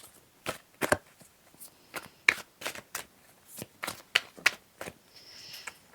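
Tarot cards being shuffled in a series of sharp, riffling bursts about every half second, each quick and crisp, with a softer hiss near the end and no talking.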